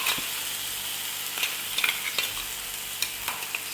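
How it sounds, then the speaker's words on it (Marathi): Masala being stir-fried in hot oil while making a gavar (cluster bean) vegetable dish: a steady close sizzle with occasional scraping stir clicks, no talking. "मसाला तेल गरम झाल्यानंतर त्यामध्ये टाकून घ्यायचा आणि परतून घ्यायचा"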